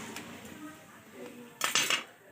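A knife cuts steamed fenugreek and bottle gourd dumplings into small pieces, making soft faint taps and clinks. A brighter cluster of metallic clatter follows near the end, all close and quiet.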